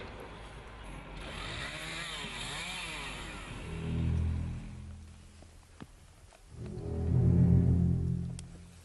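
A chainsaw motor drones steadily and rises and falls in pitch, swelling louder near the end as it revs nearby during mountain logging work, with no talk.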